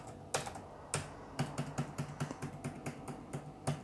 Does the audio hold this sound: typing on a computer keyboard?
yes